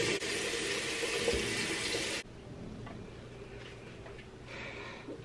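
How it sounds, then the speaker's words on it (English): Tap water runs steadily from a faucet for about two seconds while a face is rinsed, then cuts off, leaving faint drips and quiet handling sounds. "Let me rinse it all."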